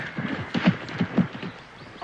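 A horse's hooves clip-clop on a riding track in a few close, uneven beats, moderately loud, with faint sounds of people in the background.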